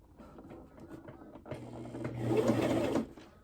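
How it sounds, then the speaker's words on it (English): A sewing machine stitches fabric for a skirt in one continuous whirring run of about a second and a half, close and fairly loud, preceded by softer handling noises. "So now I got the fabric on the sewing machine. So now I'm just sewing down."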